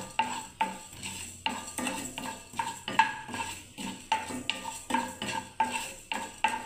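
Dry-roasting coriander powder and whole cumin in a kadai for matar chaat, with a spoon scraping and tapping against the pan in a steady rhythm of close metallic strokes and no voices.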